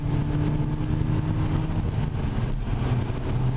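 Peugeot 308 GTi, a 300-horsepower hot hatch, pulling hard in fourth gear with a steady, loud engine drone and road noise from inside the cabin throughout.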